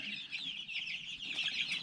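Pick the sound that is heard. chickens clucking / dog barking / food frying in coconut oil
chickens clucking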